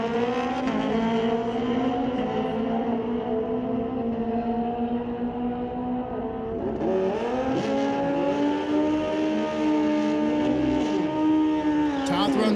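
Kawasaki-powered drag racing motorcycles, one of them 1400 cc, hold a steady loud engine drone at an NHRA Canadian Sportsnationals event, pitch dipping briefly then rising again as a commentator talks over it throughout.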